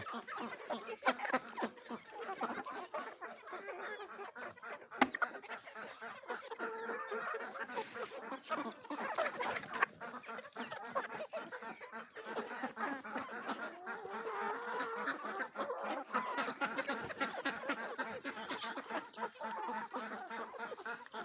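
Chickens and ducks on a poultry farm clucking, quacking and honking together in a continuous busy chatter as they are fed, moderately close, with no clear voices.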